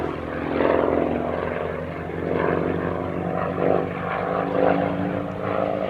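A Percival Provost piston-engined military trainer drones loudly overhead, its propeller engine sound steady and swelling slightly in waves throughout, with no talk.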